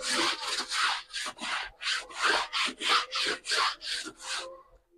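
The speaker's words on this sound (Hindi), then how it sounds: "तो फिलहाल तो अभी हम लोग इसको ब्रश से मार दे रहे हैं।" A stiff brush scrubs a rug in about a dozen quick, rhythmic back-and-forth strokes, close and scratchy, with no speech over it.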